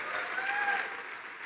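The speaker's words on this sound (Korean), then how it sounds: "Le pido que dejen de aplaudir porque hay muchas cosas que decir" Sustained audience applause in a large seminar hall, a dense even wash of clapping throughout with no talk over it.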